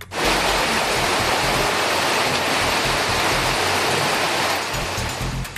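Heavy rain pours down in a steady, dense roar of broadband noise that stays loud and unbroken throughout, with no voices.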